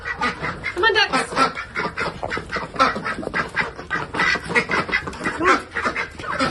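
A flock of ducks on a farm with many other animals quacks continuously and excitedly at close range, calls overlapping in a dense rhythmic chorus.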